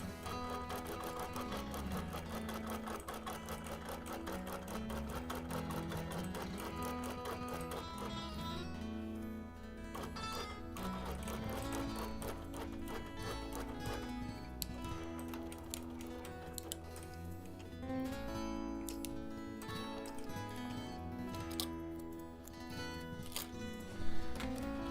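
A sewing machine runs a long basting stitch across a quilt, its needle chattering in a fast, steady mechanical rhythm close by, with brief pauses and slight changes in pace.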